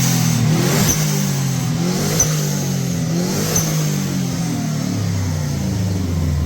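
Subaru WRX engine on a street-racing build revving in several quick bursts, then settling back to a steady idle, loud and close with no talking.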